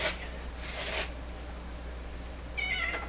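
A house cat meows near a doorway, two soft cries followed by a clearer, higher meow near the end over a low steady hum.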